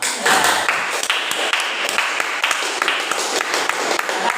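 Applause from a small class after a microteaching presentation, a dense patter of hand claps that holds steady and fairly close for several seconds.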